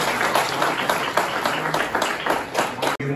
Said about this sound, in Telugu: గట్టిగా క్లాప్స్ ఇవ్వాలి.